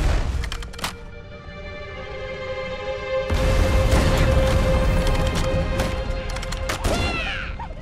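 Heavy metallic bashing on a damaged door in Halo, a loud sustained crash-and-clatter of repeated blows after a quieter ringing, mechanical passage, with no talk.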